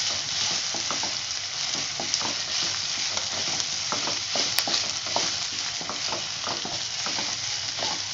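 Vegetables for egg Manchurian stir-fried in a pan, a steady loud sizzle running throughout with repeated scraping strokes of a spatula at an irregular beat, close up with no voices.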